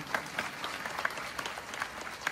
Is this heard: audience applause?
yes